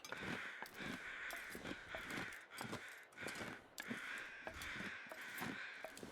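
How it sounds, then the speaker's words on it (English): Crows caw repeatedly in The Long Dark video game, a string of harsh calls in an irregular rhythm over a steady outdoor wind-like bed, fairly faint and with no talking. "Let's go see what the crows are crowing about."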